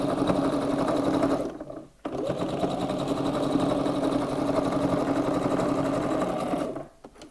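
A sewing machine stitching a quarter-inch seam that attaches a handle to the top of a reversible shopper bag, running in a fast steady whir, pausing briefly midway, then stopping near the end.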